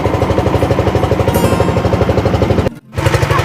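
A motor boat engine chugs loudly and steadily on the vast Hakaluki Haor wetland in Sylhet. Its rapid, even pulsing runs close and continuous, then briefly drops out near the end before resuming.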